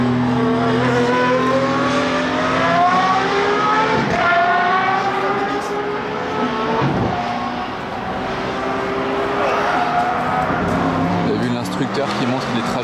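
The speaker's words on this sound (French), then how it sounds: "Vous entendez ces retours d'échappement en plus?" An Aston Martin Valkyrie on a race circuit roars through rising and falling engine revs, with crackling exhaust backfires popping between shifts; someone talks over the loud, steady engine noise throughout.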